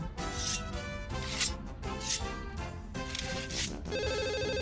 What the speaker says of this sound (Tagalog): sa biglang pagring ng telepono